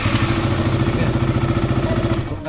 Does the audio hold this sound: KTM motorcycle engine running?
yes